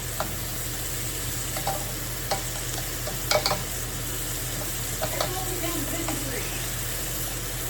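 Steaks sear in a hot pan with a steady, fairly loud sizzle throughout, broken by a few sharp crackles and spatters, while faint speech murmurs in the background.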